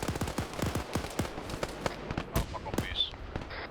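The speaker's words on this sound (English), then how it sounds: "Good use of grenades right here, though." Several sharp blasts from grenades bursting in an Arma 3 Zeus combat mission set in a Congo campaign, firing in quick irregular succession, with crackling gunfire mixed in across the whole stretch.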